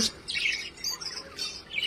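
Pet budgerigars chirp inside their cage in short, bright bursts of tweets that come and go in quick clusters, close and fairly soft with no talk.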